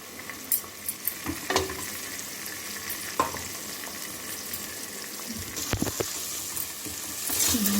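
Rice being stirred and mixed in a cooking pot, with soft scraping and patter over a steady sizzle, a few sharper clinks of the spoon against the pot.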